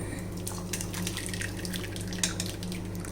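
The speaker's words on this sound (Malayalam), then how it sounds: "ഇത് നമുക്കിനി ഒരു അരിപ്പയ്ക്കകത്തൂടെ അരിച്ചെടുക്കാം." Blended lemon juice is strained through a kitchen sieve, with a steady wet trickle and dripping under a low background hum and no talking.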